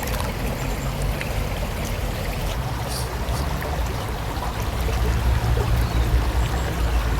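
River water rushes and flows steadily over a weir, a dense continuous broadband wash that grows slightly louder toward the end, with no voices.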